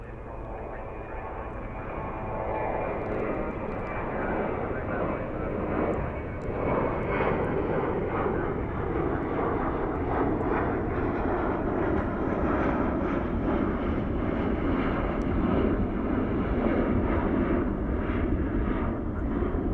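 A passenger airliner in Stand Up To Cancer livery at DFW airport at night gives a long, steady engine roar. The sound swells gradually, with the jet heard at some distance on the airfield.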